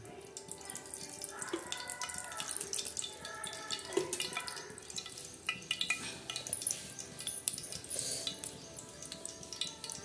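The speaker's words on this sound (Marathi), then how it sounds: "रवा असा खरपूस आता भाजून घेणार आहोत" Dry semolina granules scraped and stirred around a hot pan in oil, with soft sizzling and occasional light clinks of a spoon, steady and close.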